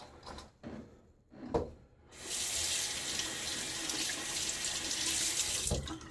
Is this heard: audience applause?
no